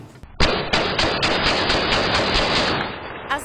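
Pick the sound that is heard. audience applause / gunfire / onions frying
gunfire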